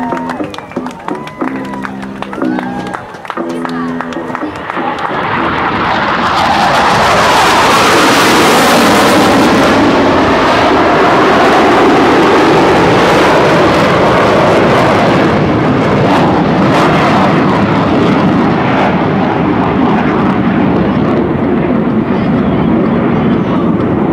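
US Navy Blue Angels jets sweep past at the 2006 Westfield International Airshow, a roaring jet rush that swells from the right and stays loud and broad, drowning out a brief announcer's voice at the start.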